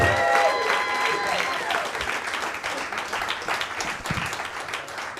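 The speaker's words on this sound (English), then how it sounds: "I know y'all like to stop clapping early," Comedy club audience applauding and cheering for a contestant's introduction, a dense wash of clapping that slowly thins out, with a voice talking over it.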